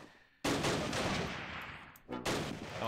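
Submachine gun fire crackles in the Close Combat Last Stand Arnhem war game, two sharp loud bursts of rapid shots separated by a brief gap, with no voices over them.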